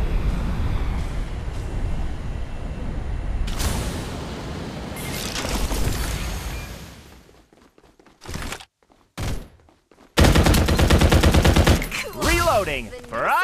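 Bursts of rapid automatic gunfire and booms in the shooter Farlight 84, loud and dense at first, then choppy with brief silences before another heavy barrage, with voices over the action.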